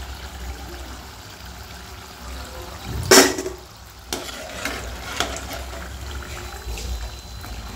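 Bread-crumbed okra bites fry in hot oil with a steady close sizzle, broken by a sharp stir or scrape of the pan and a few softer clinks.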